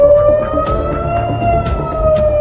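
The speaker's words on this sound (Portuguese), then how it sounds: "Estão ouvindo as sirenes?" Air raid sirens wailing across Israel during an attack, a loud sustained rising tone with harmonics layered over dense background noise, continuous throughout without pause.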